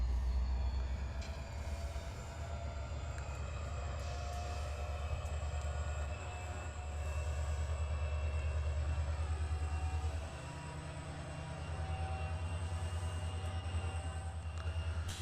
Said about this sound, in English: it actually sounds like an 81 class, which is awesome.